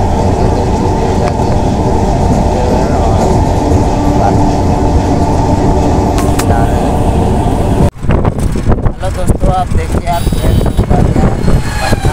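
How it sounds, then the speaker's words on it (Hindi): A passenger train pulls into a station on a trip to Patna, with a loud, steady rumble that breaks into clattering, hissing bursts partway through, and faint voices in the background. "ट्रेन भी आ चुका है"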